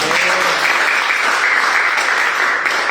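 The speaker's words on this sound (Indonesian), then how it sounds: "Berikan tepuk tangan buat Tuhan." A church congregation at GKSI Glory To Glories in Batam applauds during a sermon, producing a continuous, even roar of clapping with no voices over it.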